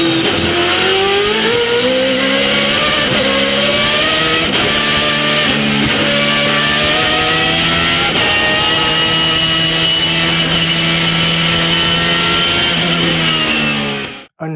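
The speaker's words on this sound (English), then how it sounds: "Judd V8 swapped BMW E82 134" Judd V8-swapped BMW E82 134 race car with straight-cut gears: a loud, continuous high-revving V8 scream with rising and falling engine pitch through gear changes and a gear whine, close by, ending abruptly.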